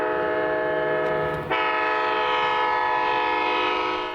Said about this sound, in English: a raised letter K5LA horn began to pierce through the fog